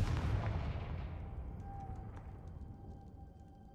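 A Confringo blasting spell in the Hogwarts Legacy video game goes off with a single deep explosive boom that decays into a fading rumble, followed by a thin lingering ringing tone.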